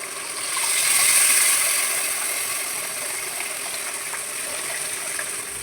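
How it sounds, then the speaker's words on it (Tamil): Dissolved tamarind water poured into a pan of fish curry with softened tomatoes, a steady splashing gush that swells early then settles into a continuous trickle, close and moderately loud with no talking. "இப்போ புளி கரைச்சி தண்ணி ஊற்றிக்கலாம்"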